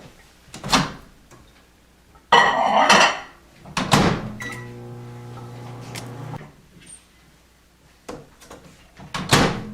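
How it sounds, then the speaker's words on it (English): A microwave door opens and clicks shut, then the oven hums steadily for a couple of seconds while softening granola bar ingredients, before more knocks and a door sound at the end. "now we're going to put this in the microwave for 1 to 2 minutes or until softened."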